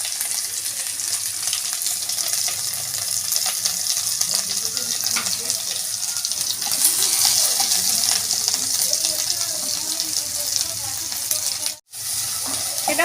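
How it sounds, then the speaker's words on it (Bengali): Whole garam masala goes into hot oil and fries in a pan for a Bengali pomfret curry, giving a bright, steady crackling sizzle that holds throughout. It breaks briefly near the end. "তেলটা গরম হয়ে গেছে, এবার আমি এর মধ্যে গোটা গরম মশলাটা দিয়ে দিচ্ছি।"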